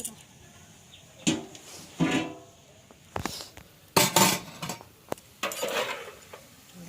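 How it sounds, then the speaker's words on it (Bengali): Soaked basmati rice being added to boiling water in a pot over a wood fire for dum biryani: scattered splashes, pours and metallic clinks come in short bursts, fairly faint and close. "চালটা দেওয়া হচ্ছে, জলটা ঝরিয়ে ঝরিয়ে"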